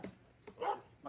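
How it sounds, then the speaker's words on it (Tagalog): A dog barks close by in an outdoor kitchen, giving two or three short, sharp yaps within about a second, fairly quiet and alone. "Ingay ng aso."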